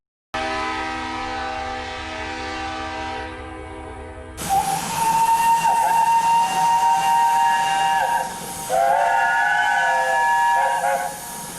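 Steam locomotives in a Thomas and Friends fan film sound their whistles in farewell. After a held tone, several shrill, tonal whistle blasts ring out in overlapping turns, with a short gap before the last ones.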